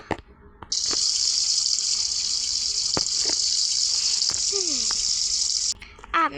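A shower runs steadily and loudly for a bath for several seconds, a close hissing spray that starts and stops abruptly, with brief speech and a higher voice at the edges.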